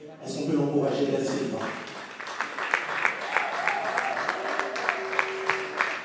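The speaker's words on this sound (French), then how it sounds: "Et Dati va pas arriver également sous nos applaudissements nourris" Audience applause in a festive French-speaking ceremony hall, a dense spread of clapping with some emphatic claps standing out, following a brief opening of voices and lasting several seconds.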